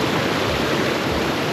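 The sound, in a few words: water flowing along a trail turned into a creek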